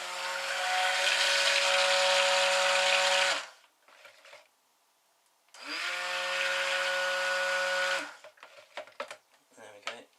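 Oxide colorants for soap are mixed with a small electric mixer, which gives two close, steady high-pitched whirring bursts of about three seconds each, separated by a quiet pause, followed by faint clinks.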